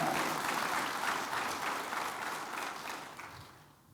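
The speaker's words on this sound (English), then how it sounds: "If you could join me in giving recruit class 33 a round of applause." An audience gives a round of applause to a graduating fire department recruit class at their ceremony, with dense, sustained clapping that fades gradually toward the end.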